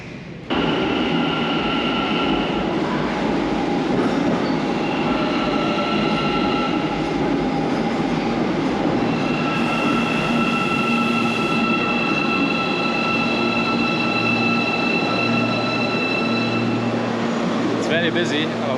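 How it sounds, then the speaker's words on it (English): A metro train in Almaty, Kazakhstan rumbles steadily close by for nearly twenty seconds, with high wheel whines and squeals rising over the roar and voices talking underneath. "let's go check out that metro"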